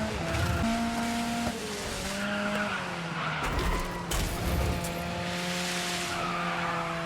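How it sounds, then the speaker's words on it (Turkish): Car tyres squeal and skid over a racing engine's shifting drone in the video game Dirt 5, with repeated slides and short bursts of impact noise. "bu araba bayağı kayıyor gibi"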